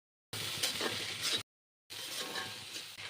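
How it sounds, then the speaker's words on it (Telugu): Pieces of ivy gourd sizzle with onions in a hot pan over a high flame, making a steady, close frying hiss in two bursts separated by a short silence. "హై ఫ్లేమ్ మీద 5 నిమిషాలు వేయించాలి."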